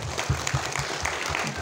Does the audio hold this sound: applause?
yes